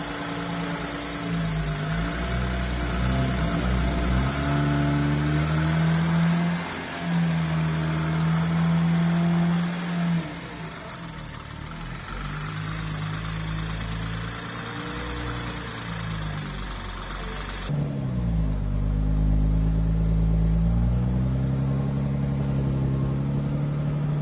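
A built BMW M240i engine fires up and settles into a loud, close idle, its low rumble rising and falling with a few throttle changes.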